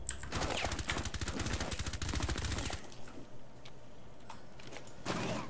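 Rapid bursts of automatic gunfire in the video game Rainbow Six Siege rattle loudly for a few seconds, followed by quieter scattered shots and mechanical clicks.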